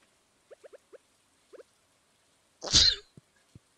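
A single sharp, fairly close person's sneeze bursts out after a few faint clicks and taps, followed by a couple of small knocks, with no talking.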